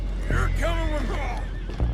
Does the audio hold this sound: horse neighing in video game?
yes